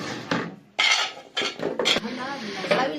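Chopped zucchini clatters into a baking dish in a kitchen as bulgur and zucchini are prepared, with several sharp, close scrapes and knocks against the dish in quick irregular bursts.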